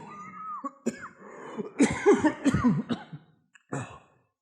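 A voice imitates a series of hacking coughs in a rough, sputtering run, close and fairly loud, ending in a short final cough.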